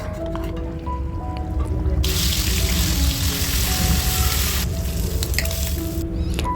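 Water pours and splashes over about two cups of rice being washed for ghee rice in a home kitchen, a steady rushing wash with drips and stirring, loudest in the middle stretch, with no speech.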